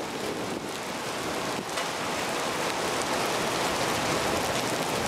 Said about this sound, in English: Okay, looks like the hail is trying to increase in intensity.